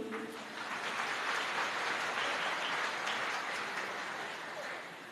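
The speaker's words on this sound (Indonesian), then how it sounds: "Kasih aplaus dulu." Audience applause at a talk show, a broad wash of many hands clapping that swells and holds steady for several seconds before easing slightly.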